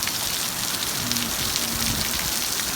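A Mojave Desert summer downpour floods a front yard, the rain a loud, unbroken wash of hissing drops spattering nearby surfaces throughout.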